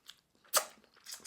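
A single loud crunching bite into a shell-on shrimp from a bowl of spicy coconut laksa noodle soup, a sharp close crackle between quieter mouth sounds.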